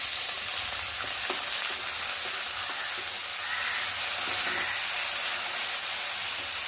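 Tomatoes dropped into hot oil seasoned with whole spices, cumin and turmeric, for a spinach dish, frying with a steady close sizzle and hiss and a few soft stirring scrapes, no voices.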